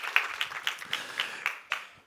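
A church congregation gives a welcoming round of applause for a visiting pastor during Sunday worship, heard as a handful of distinct, fairly soft claps spaced unevenly over two seconds rather than a full ovation.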